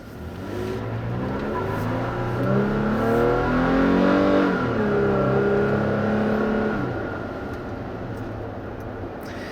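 A 2016 Toyota Tacoma truck drives along a road, its engine swelling as it accelerates and then easing back, heard steadily from inside or close by.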